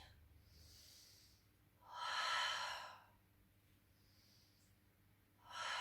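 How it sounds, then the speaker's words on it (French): A slow breath in and out during a gentle Pilates exercise, two long, soft airy swells, near and quiet, separated by a short hush. "Inspire, expire."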